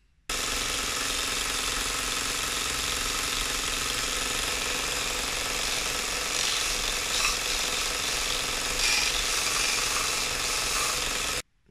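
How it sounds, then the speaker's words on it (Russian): A power drill bores a hole and then drives self-tapping screws while a powerful block-and-pulley slingshot is being built, giving a continuous harsh, grinding whir that stays loud and close for the whole stretch without speech. "Сверлим отверстие и закручиваем сюда саморезы."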